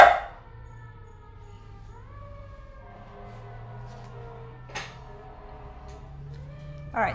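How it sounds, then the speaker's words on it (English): A dog howls and yelps along with the wailing siren of a passing fire engine, drawn-out rising and falling tones at moderate volume with a couple of sharper bursts near the start and end. "there goes the fire engine, and my dog always barks at the fire engine."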